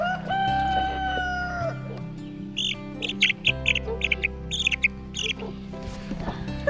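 A baby chick held in someone's hands gives a run of high, thin peeping chirps, close and clear, over a steady low background hum, with no one speaking.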